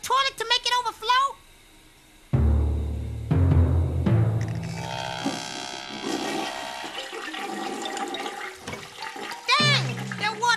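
A cartoon toilet flushes with a loud roaring rush of water that swirls and gushes on as it overflows, with animated characters talking before and after.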